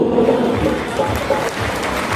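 At a Hindi Dalit literature poetry gathering, a large audience in a tent breaks into loud, dense applause, a steady wash of clapping that carries through the whole moment with no voice over it.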